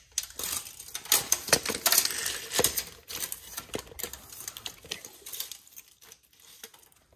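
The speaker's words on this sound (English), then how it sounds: "let's see if I can get my tape measure out" A tape measure on a 2021 Taxa Cricket camper trailer is pulled out and handled, giving a run of close, sharp metallic clicks, rattles and taps that thin out toward the end, with no talking.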